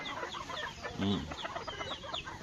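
Chickens clucking softly in a small backyard garden, scattered faint clucks with one slightly louder call in the middle, distant and low in level.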